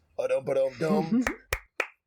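A man sings a short wordless tune, then three sharp hand claps ring out one after another, loud and close, each separated by a brief pause.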